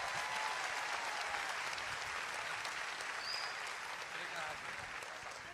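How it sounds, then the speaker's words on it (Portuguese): A church congregation applauds to welcome a pastor, a steady, even roar of clapping at a distance that tapers slightly toward the end, with voices faintly mixed in. "Vamos recebê-lo com um aplauso."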